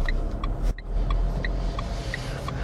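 Car pulling away from a stop in first gear during a driving lesson in Pontault-Combault, a steady engine rumble with a brief dip partway through and faint ticking, close and continuous, with no talk.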